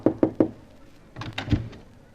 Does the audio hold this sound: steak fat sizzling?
no